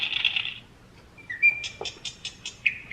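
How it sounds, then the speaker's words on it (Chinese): A children's Christmas sound book plays a recorded bird call: short electronic chirps and whistles, quiet and close, in several brief bursts with pauses between them. "这是小鸟的声音。"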